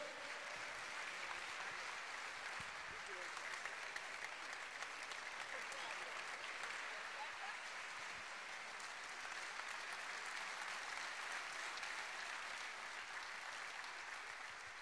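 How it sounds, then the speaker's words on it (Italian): Steady applause from an audience at an Italian student study-incentive award ceremony, honoring a young fencer; even, sustained clapping fills the whole stretch at low level with no talk over it. "un grande applauso anche per lei"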